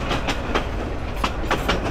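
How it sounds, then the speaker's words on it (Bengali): A train creeps very slowly over grassy track with wooden sleepers and no ballast stone, a close, loud rumble with repeated clickety-clack wheel knocks at irregular intervals. "ট্রেন যাচ্ছে ভয়ানক ধীর গতিতে"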